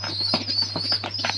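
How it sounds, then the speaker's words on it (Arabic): A domestic pigeon in a summer breeding loft makes soft, quick, repeated rustling and fluttering bursts close by, over a steady low hum. "كان في حمامة هنا اهي"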